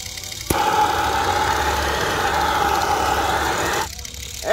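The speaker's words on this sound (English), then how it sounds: "I think it's about time we torch the backside of it now" A blowtorch flame playing on the back of a running graphics card: a sharp click as it lights, then a loud, steady roaring hiss for about three seconds before it cuts off, with a low hum beneath.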